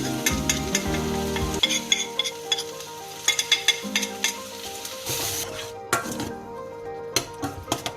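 Bhindi (okra) frying in a pan as dry spices go in and get stirred, a loud close sizzle with scraping spoon and metallic pan knocks that rise and fall across several seconds, no talking.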